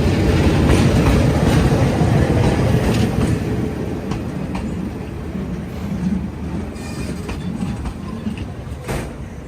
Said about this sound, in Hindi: मारवाड़ की तरफ से आने वाली ट्रेन भी आ चुकी है